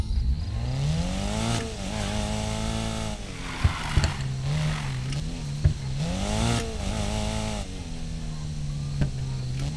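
Subaru BRZ in the Need for Speed Payback racing game, its engine revving up and down in repeated surges with crackling exhaust pops between throttle blips, loud and close throughout.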